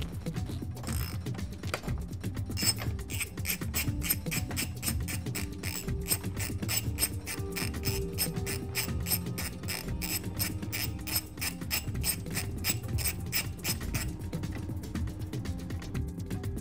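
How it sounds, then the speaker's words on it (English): Ratcheting wrench clicks in a fast, steady run while a bolt is broken loose from the end of a motorcycle front axle during a front tire change, close and continuous with metallic rubbing underneath. "we're going to be breaking this bolt out of the end of the axle"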